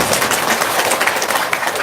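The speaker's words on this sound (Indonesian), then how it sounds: "Tepuk tangan dong" Brief burst of applause from a seminar audience, dense continuous clapping heard throughout at steady loudness.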